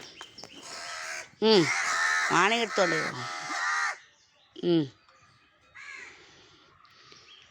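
Crows caw loudly at close range while being fed scraps of food alongside a cat, the harsh calls coming in several bursts, with a person speaking briefly between them.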